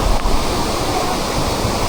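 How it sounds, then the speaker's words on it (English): A small rain-fed waterfall pours steadily nearby, a loud, continuous broadband rush of falling water with no voices. "This little waterfall right here."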